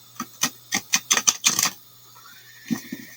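A deck of tarot cards is shuffled, giving a quick burst of sharp, papery riffle snaps in close succession, a pause, then a few softer taps, close and fairly quiet with no talk.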